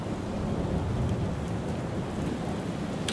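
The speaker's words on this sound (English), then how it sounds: "It's a big storm over there." Steady heavy rain pours throughout a big storm, a dense continuous hiss with low rumbling thunder beneath it and a sharper crackle near the end, no voices.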